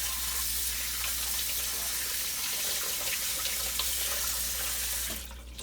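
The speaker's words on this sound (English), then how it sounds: "all we do is we first rinse everything off" Water from a tap runs steadily into a sink while kefir grains are rinsed, a constant splashing hiss that cuts off near the end.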